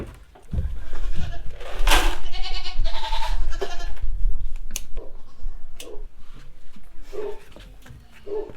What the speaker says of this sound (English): they're good, friendly goats